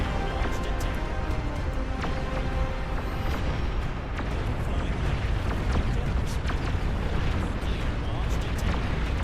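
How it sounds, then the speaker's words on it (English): Heavy pong cannon fire in the Beyond All Reason real-time strategy game, a continuous loud barrage of booming explosions and bursts that runs the full length with no pause. "the pong cannons are firing too"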